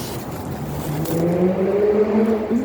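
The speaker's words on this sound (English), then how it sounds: "There's a lovely motorbike." An engine rises in pitch as a motorbike passes close by, its revving drone climbing steadily over a breezy background.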